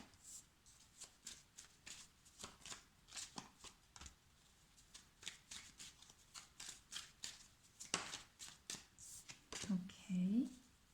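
Tarot cards being shuffled by hand, a quiet series of crisp riffling and sliding bursts in a steady rhythm, close up, ending with a brief soft vocal sound.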